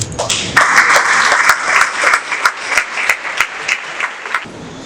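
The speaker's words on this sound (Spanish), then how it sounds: "Recibamos con un fuerte aplauso a Didier Pérez" Audience applause at a school presentation, a burst of dense, close clapping that swells and holds for several seconds before cutting off, with a voice briefly at the start.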